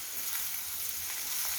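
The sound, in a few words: curry leaves frying with masala in pan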